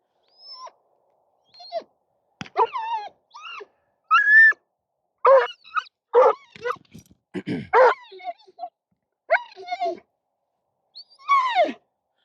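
A retriever waiting on the line at a marking drill whines and yelps in short, uneven bursts, close by and with no talk over it.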